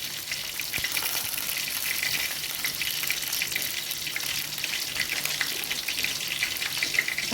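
Rice sizzles and fries steadily in a pan with chopped ingredients, stirred now and then, a continuous close crackling hiss with faint watery clinks and no talking.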